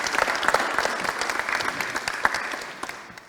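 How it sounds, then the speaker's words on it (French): An audience at a solidarity evening for seafarers claps for Thibaut, a burst of dense, lively applause from a room of people that gradually tapers off. "Peut-être Thibaut, on peut l'applaudir"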